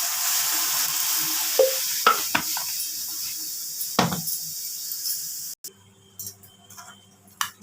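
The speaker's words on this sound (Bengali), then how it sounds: "এটাকে শুকনো খোলায় ভেজে নিচ্ছি।" Mustard seeds dry-roasting in a pan for mango chutney, giving a steady close sizzle with scattered sharp pops and ticks, then a sudden drop to quieter crackling near the end.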